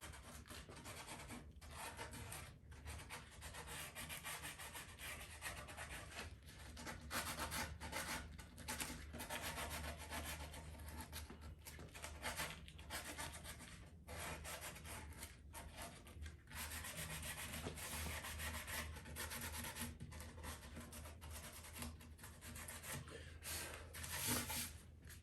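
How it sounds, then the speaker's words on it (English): Wooden sign having its sides sanded by hand, a continuous close rasping rub with rhythmic strokes and brief pauses, no voices. "And now I'm just doing a quick little sanding of the sides."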